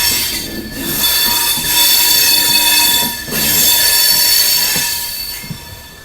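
An Amrit Bharat Express switching from the main line onto a loop line, its wheels squealing steadily with high metallic tones over rumbling rail noise, briefly dipping twice before resuming.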